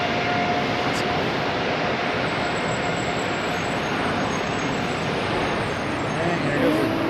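A jet airplane roars steadily at Charlotte Douglas International Airport, a broad continuous rush of engine noise that stays loud and even throughout, with no voices over it.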